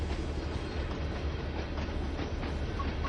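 A train rumbles steadily past in the Train Sim World 3 video game on the Clinchfield Railroad, a continuous low roll with faint clickety-clack of wheels and no talking.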